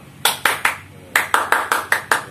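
A patterned Indonesian scout hand clap: three sharp claps, a brief pause, then a quicker run of about seven claps in steady rhythm, close by.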